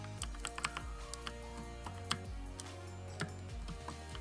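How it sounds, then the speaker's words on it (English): Clicky computer keyboard keys clatter in irregular bursts of sharp taps, close and fairly quiet, with brief pauses between flurries of keystrokes. "Sorry if my keyboard's a little clicky"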